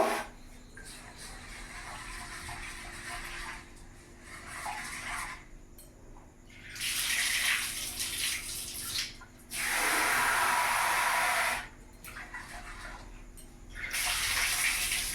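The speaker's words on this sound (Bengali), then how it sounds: "আমি ভালো করে ডালটা দুবার ধুয়ে নিয়েছি" Raw moong and masoor lentils rinsed under running water, with tap bursts that start and stop several times and swishing and rubbing of the wet dal between them, close and fairly loud, no voices.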